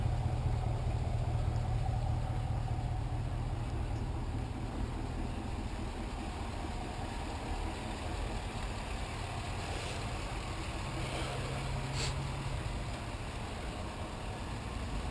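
A 2019 Chevy Silverado 1500 Trail Boss with dual exhaust idles steadily, a low, even engine rumble held close and constant throughout, with no voices.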